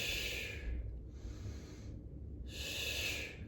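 Breath is pushed out and drawn in during a Pilates head turn, soft airy exhales and inhales alternating in a slow close rhythm over low room noise.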